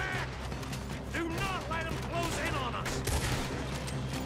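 Gunfire in the Red Dead Redemption 2 video game, repeated sharp shots and ricochets amid game effects, fairly quiet in the mix, with a player talking over the action.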